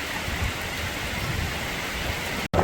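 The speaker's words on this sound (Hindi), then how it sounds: "यहाँ से हो गई है बारिश शुरू, थोड़ी देर वेट करूँगा, काफ़ी मोटी बारिश है अभी।" Heavy downpour of rain, a dense and continuous hiss of drops hitting surfaces, close and loud throughout with one brief cut near the end.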